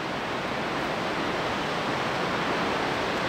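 A waterfall roughly 60 meters tall, reached on a hike past snowmelt, heard as a steady, dense roar of rushing water that holds at an even level throughout with no voices.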